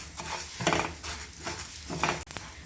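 Coriander seeds roast in half a spoon of cooking oil for Udupi Brahmin style sambar powder, a soft sizzle broken by repeated scraping stirs of a utensil in the pan.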